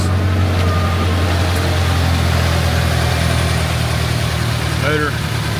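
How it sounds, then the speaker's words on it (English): A rear-wheel-drive sports car bought at a salvage auction idles with a steady, low engine rumble close by, continuous throughout with a brief chirp near the end. "Motor sounds pretty good."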